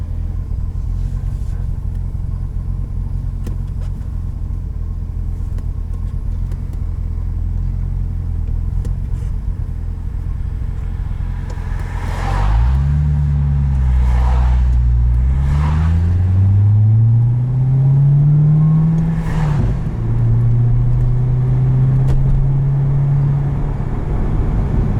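A stock 2010 Corvette ZR1 engine rumbles at a low steady idle, then revs sharply in quick bursts and climbs under hard acceleration, loud and close with no talking.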